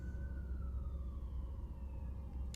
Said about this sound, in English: Sorry if you could hear the siren in the background.